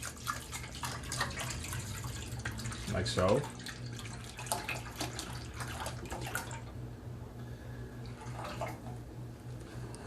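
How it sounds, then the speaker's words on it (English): Half a gallon of milk poured into a Dutch pot makes a steady, splashing stream for about six seconds before stopping. Someone speaks briefly over it. "we're gonna pour half a gallon of milk in here"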